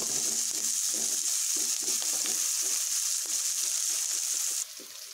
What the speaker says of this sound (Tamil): ஆனியனை நல்லா வதக்கிக்கலாம்.